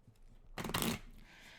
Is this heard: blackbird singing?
no